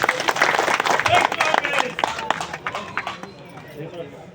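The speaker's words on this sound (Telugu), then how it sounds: "ఒకసారి అందరు గట్టిగా చప్పట్లు కొట్టాలని" A seated audience at a Congress government welfare scheme launch in Cheriyal bursts into loud, dense applause that gradually thins and fades over a few seconds.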